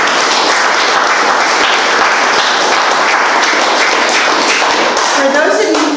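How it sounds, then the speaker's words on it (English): An audience at a local history talk about farming gives a loud, sustained round of applause close by, even and dense throughout, with a voice starting to speak near the end. "So let's give him a round of applause."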